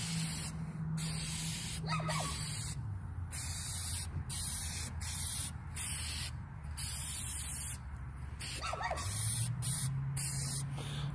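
Steady close hiss of a spray can laying a first protective coat on wooden farmhouse candle holders, continuous for the whole stretch with only brief dips and no talking.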